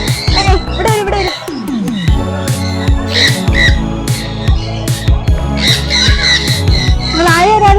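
Birds squawk and call repeatedly in the hill station of Ooty, harsh bursts mixed in among people talking nearby.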